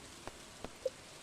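Steady rain in the farming video game Stardew Valley, a soft even patter with a few faint drip-like ticks, quiet and without voices.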